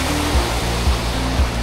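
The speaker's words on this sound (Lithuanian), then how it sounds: "vandens čiurlenimą." A roadside mountain stream in Norway near Bergen's fjords gives a steady, full rush of murmuring water, close and continuous, with no voices.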